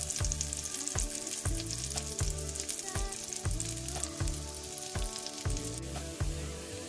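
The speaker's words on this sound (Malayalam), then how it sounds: "നമുക്ക് നന്നായിട്ട് സോർട്ട് ചെയ്തെടുക്കാം" Garlic and chunks of chicken sauté in butter in a pan, a steady sizzle broken by a regular rhythm of stirring scrapes and knocks, close and fairly loud, with no talking.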